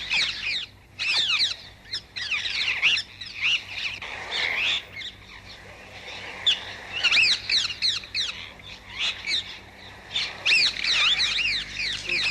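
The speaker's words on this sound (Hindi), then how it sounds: "इस पेड़ पे जो चिड़िया लगातार चै चै कर रही है वो क्या कह रही है?" Small birds chirp continuously in a tree, with rapid repeated squawky calls in bursts throughout, fairly close and clear, with no talking.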